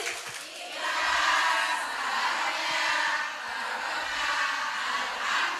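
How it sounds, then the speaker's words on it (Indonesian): An audience of women at an evening Islamic study gathering applauds, a steady wash of clapping that swells after a brief quieter start and holds for several seconds. "Boleh tepuk tangan dulu buat kita semuanya."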